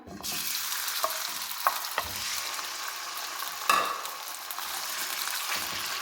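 Half a kilo of chicken frying in hot oil in a karahi for Afghani chicken karahi, a steady hissing sizzle with a few sharp spatula knocks and scrapes, close and even, no one talking.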